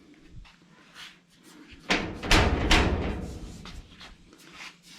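A single solid slam of a vehicle door shutting, close and loud, with a short rattling decay amid faint background noise.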